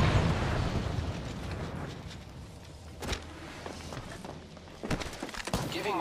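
Incoming enemy gunfire in the shooter Apex Legends, heard as a dense roar of shots and bursts that thins in the middle, then returns with sharp cracks and rumbling impacts, under game effects.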